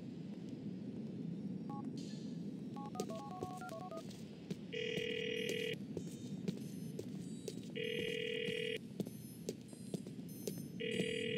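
A telephone rings in Grand Theft Auto IV, with loud repeated ring bursts spaced a few seconds apart over a steady low hum. A short run of dialing tones comes before the ringing.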